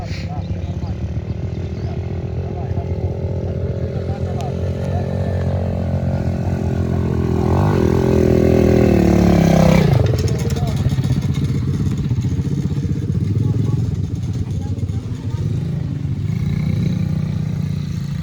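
A motorcycle engine revs up under a young rider's throttle on a spring ride, the pitch climbing and peaking loudly before dropping back to a steady idle, with someone talking over it.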